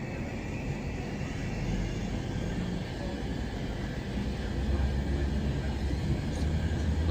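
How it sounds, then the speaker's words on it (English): A diesel passenger train running steadily while moving, its engine giving a continuous low rumble with broadband rolling noise that rises slightly toward the end. "So the train's sounding quite diesel now for some reason"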